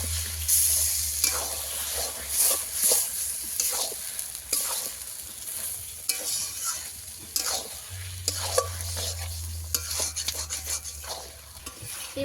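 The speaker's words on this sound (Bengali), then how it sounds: "মাংসটাকে কষিয়ে নেব।" Chicken skin sautés with spices in hot oil, a loud continuous sizzle broken by repeated scraping stirs and clinks of a spatula against the pan.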